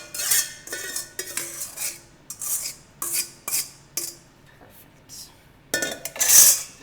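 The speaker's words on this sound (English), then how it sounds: "Let's go ahead and just mix these all together" Chicken wings being tossed with an Asian-style sauce in a bowl, giving a run of close, rhythmic utensil scrapes and clinks against the bowl in short bursts with brief pauses between.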